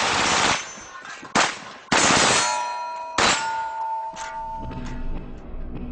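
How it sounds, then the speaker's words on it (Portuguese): Several loud metallic clangs ring out from AR-15 rifle shots striking steel targets, with bursts of sharp impacts and lingering ringing tones between them. "Veja só os tiros disparados em alvos de metal."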